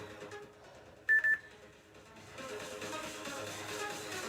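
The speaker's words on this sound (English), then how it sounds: "So that little beep is 15-second warning before your pulses begin." A workout interval timer gives a short double beep as a 15-second warning, two quick bright tones over quiet background murmur with no clear talking.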